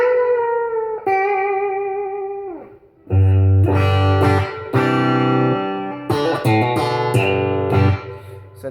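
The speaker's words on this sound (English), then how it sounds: "Let's go back to the clean sound." Electric guitar with Dunlop Reverend Willy 7-38 strings on a clean tone: a few sustained, bending notes, then a louder run of strummed chords and picked notes, played alone.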